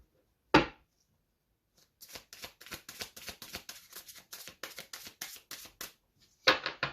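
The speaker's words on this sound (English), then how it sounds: "don't want to shuffle these too hard" A deck of gold-edged cards being riffle-shuffled up close: a sharp snap, then a quick run of crisp, rhythmic flutters, ending with another snap, in a quiet room.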